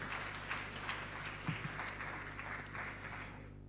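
Steady applause from an audience at an opening ceremony, a dense wash of clapping held at an even level throughout, heard at a distance.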